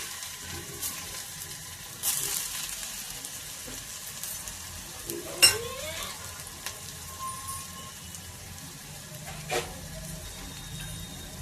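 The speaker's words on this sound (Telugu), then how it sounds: "వేగుతున్నాయి కదండి." Brinjal and onion pieces frying in a pan for a curry, a soft low sizzle with scattered stirring scrapes and a few louder clinks and knocks from a utensil, close but fairly quiet.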